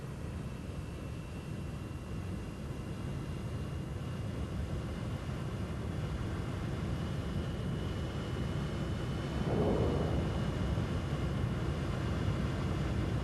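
Red Arrows display jets roar past overhead, a steady broad rush of engine noise that swells briefly as another aircraft crosses, heard without talk.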